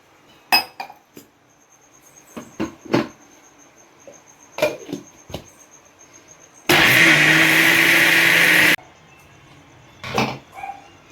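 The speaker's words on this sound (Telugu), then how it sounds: "1/2 కప్పు వాటర్ వేసుకొని మెత్తగా మిక్సీ పట్టుకుందాము" A mixer grinder grinds soaked urad dal with half a cup of water, a loud steady whirring burst lasting about two seconds in the middle, set among scattered clinks of glass and utensils in a kitchen.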